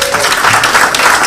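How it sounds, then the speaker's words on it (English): Audience applause at a talk on Black identity, a dense, steady wash of clapping filling the short stretch at close range, with no voice on top. "Can we give him another clap, please?"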